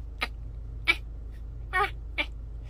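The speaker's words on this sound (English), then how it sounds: "Timmy, say hi to my cats" A pet cat meowing four times in short, separate calls spaced about half a second apart, close by and clear over a quiet hum.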